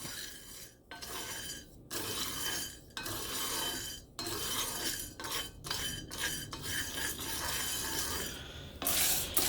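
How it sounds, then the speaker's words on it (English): Coffee beans stirred and scraped in an All-Clad skillet while roasting at home, a rhythmic rasping metal-on-metal rubbing in repeated strokes with brief pauses between them, close and fairly loud. "what I'm doing is I'm roasting coffee on my home skillet"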